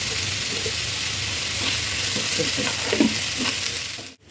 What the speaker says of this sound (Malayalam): എണ്ണ ചൂടായിട്ട് സവാള ആദ്യം അങ്ങാതെ ഇട്ട് നല്ലോണം ആവശ്യത്തിന് ഉപ്പിട്ട്